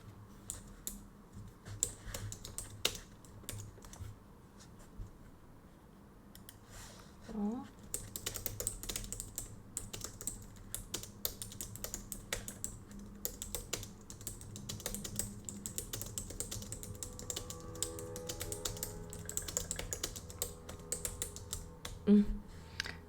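Keys clatter on a computer keyboard in irregular bursts of close, crisp taps, spaced out at first and then denser and continuous, with faint background noise and occasional louder clicks.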